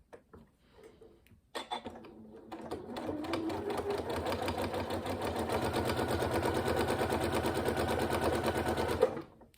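Sewing machine stitching a zipped pencil case, a brisk rhythmic chatter building steadily and running unbroken for several seconds after a few opening clicks.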